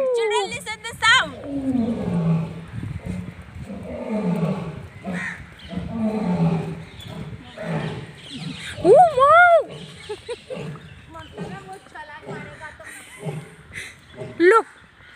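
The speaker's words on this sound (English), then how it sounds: "See, lion is roaring." An Asiatic lion roars at a zoo, with deep rumbling growls and a few rising calls over about fifteen seconds, interleaved with a person talking.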